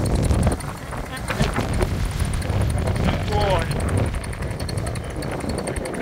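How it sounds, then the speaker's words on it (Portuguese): Strong wind buffets outdoors, a loud continuous rumbling roar with gusty swells, while someone talks over it. "Olha só a dificuldade, tá ventando"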